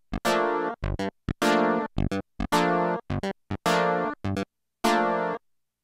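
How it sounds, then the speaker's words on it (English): An Oberheim OB-X8 clavinet-style patch, two narrow pulse-wave oscillators, plucks a funky staccato riff of short, bright, nasal notes in quick syncopated bursts, clean and unaccompanied. "is a clavinet type sound"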